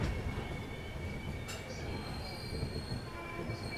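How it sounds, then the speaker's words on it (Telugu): Golconda Express pulling away from platform 10, wheels squealing in thin sustained tones over a continuous rolling rumble, with a brief sharp screech near the middle. "ప్లాట్ఫామ్ నెంబర్ 10 నుంచి డిపార్ట్ అయిపోయింది."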